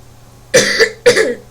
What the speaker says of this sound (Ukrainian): Я попереджаю, що я вже кашлю.